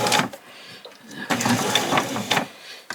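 A sewing machine runs in short bursts while stitching a straight seam across apron fabric, its rapid mechanical whir stopping and starting, with a voice speaking faintly in between.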